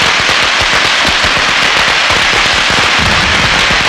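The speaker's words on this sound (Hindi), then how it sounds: "हम पटाखे चला रहे हैं" Firecrackers bursting in the middle of a street in a 1997 Hindi film, a loud, dense, continuous crackle of rapid pops with no pause.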